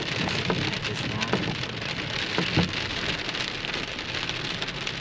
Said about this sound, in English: It's been raining here for a little bit.